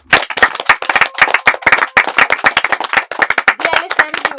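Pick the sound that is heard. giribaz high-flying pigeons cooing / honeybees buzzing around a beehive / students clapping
students clapping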